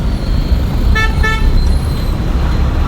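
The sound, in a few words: car horn honking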